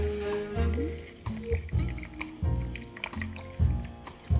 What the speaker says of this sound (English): I'm just going to decant that now through the cloth.